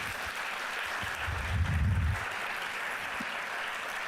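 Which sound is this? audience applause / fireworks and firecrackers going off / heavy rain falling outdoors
audience applause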